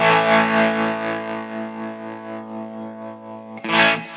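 Sustained distorted electric guitar chord ringing out and slowly fading, with a brief burst of noisy strumming near the end.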